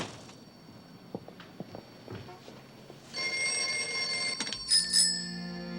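A payphone in a hallway rings, its bell-like trill cutting in after some soft footsteps and knocks and then continuing loud and near.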